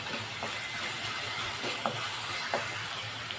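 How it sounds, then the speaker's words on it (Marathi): Onions and curry leaves frying in a pan for shev bhaji, giving a soft, steady sizzling hiss with a few faint stirring clicks, fairly quiet and without talk. "आता आपण यामध्ये कढीपत्ता घालूया"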